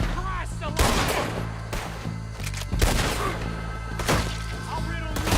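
Gunfire in the video game Red Dead Redemption 2 during a shootout at a moonshine distillery, with repeated loud booming shots and thuds scattered through the scene under a low rumbling background.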